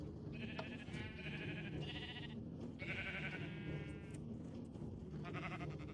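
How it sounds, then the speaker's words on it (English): Sheep bleat repeatedly in a farming video game, several overlapping cries in bursts over a steady background of game music or ambience. "So we have all the sheep dyed and all the sheep grown up"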